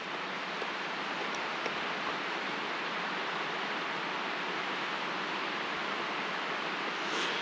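A mountain creek flows steadily in an outdoor camping area, a constant broadband rush of moving water that stays loud and even throughout, with no talking.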